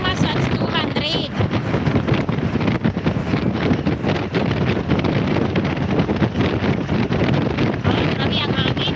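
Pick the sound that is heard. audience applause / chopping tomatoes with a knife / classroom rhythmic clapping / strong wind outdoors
strong wind outdoors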